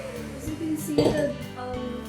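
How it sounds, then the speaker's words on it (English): A whisk works frosting in a mixing bowl, giving soft repeated clinks and scrapes against the bowl with a brighter clink near the middle, while a person talks over it. "now when you're mixing the frosting with the whisk"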